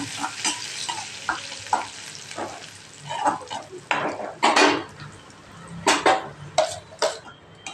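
Roasted gram is stirred and toasted in a pan for thuvaiyal, with repeated scraping and rattling of a spoon against metal and a faint sizzle, irregular bursts close up with no talk.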